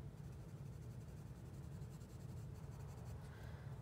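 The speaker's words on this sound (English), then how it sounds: "this one I'm coloring in a coloring book" Crayon or pencil scratches steadily across a coloring book page in soft, continuous strokes, quiet and close, with a low hum underneath and no voices.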